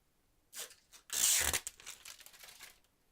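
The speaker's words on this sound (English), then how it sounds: "Just peel the protective layer" Protective film being peeled off an acrylic PC side panel, heard as a short tearing pull followed by a longer crinkly rip and softer crackles, close and alone.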